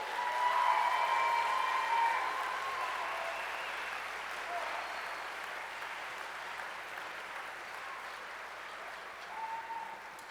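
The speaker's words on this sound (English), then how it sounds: "would you all let them know by applause how amazed you are" Audience applauding at a middle school winter band concert, sustained clapping loudest at the start and gradually thinning, with faint voices and a few whoops in the room.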